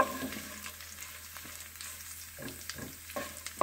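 A handful of hot chillies fry in a pan, giving a steady close sizzle with a few soft stirring clicks and a louder crackle near the end.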